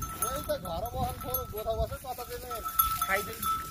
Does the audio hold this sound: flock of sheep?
yes